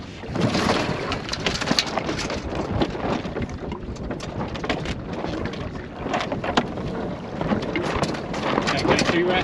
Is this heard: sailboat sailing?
yes